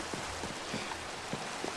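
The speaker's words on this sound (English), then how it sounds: "A nice cozy rain." Rain falling in Minecraft, a faint, steady patter of drops with soft low thumps, brief and quiet, with no talking.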